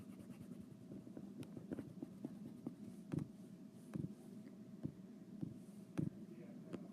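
Close, soft scrubbing and rubbing of an eraser clearing pencil writing from paper, a steady scratchy texture broken by a few quiet taps and knocks, with no voices.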